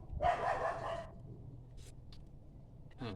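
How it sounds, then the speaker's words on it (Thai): A single dog bark rings out at a distance, followed by quieter background sounds and faint clatter. "เสียงหมา มันเห่าบันหยังเนาะ"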